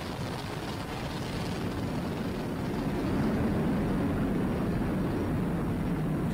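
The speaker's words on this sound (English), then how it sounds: "Liftoff of the Falcon 9 and crew Dragon" SpaceX Falcon 9 rocket carrying a crew Dragon capsule during launch, a broad, continuous rumbling roar that swells slightly midway and stays loud and unbroken, heard from a distance.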